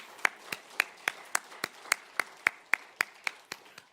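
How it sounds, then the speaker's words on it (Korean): Slow, evenly spaced claps ring out in a church during a Sunday afternoon service, about a dozen sharp strikes at a steady rhythm, fairly close and alone with no talk over them. "우리 큰 격려의 박수를"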